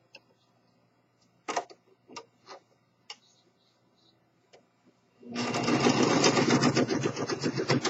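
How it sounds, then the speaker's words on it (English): A Singer Professional Pro 5 serger sews fabric. A few scattered clicks and taps come first, then the machine starts up into a loud, steady, fast stitching whir close by. "when you go up on your stitch length, your fabric flies through the machine a lot quicker"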